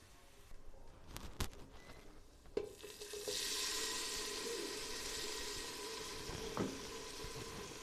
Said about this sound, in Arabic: وهنزل بعد كده بالطماطم.